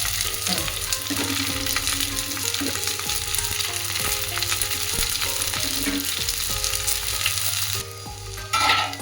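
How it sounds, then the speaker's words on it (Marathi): Vegetables for hakka noodles stir-frying in a hot pan, a steady loud sizzle with scraping stir strokes throughout, ending in a brief quieter patch before a final burst. "भाज्या पण 5 मिनटं आपल्याला फ्राय करून घ्यायच्यात, हलवत राहायचंय"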